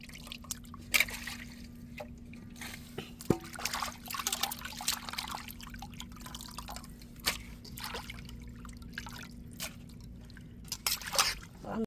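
Freshly cut sea fish are rinsed in clean water before going into a fish curry, giving faint, scattered drips, trickles and small splashes with no speech.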